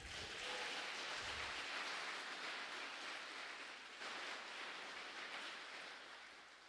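A church congregation applauds with sustained, dense clapping that swells and holds for several seconds, then tapers off slightly, sounding soft and somewhat distant.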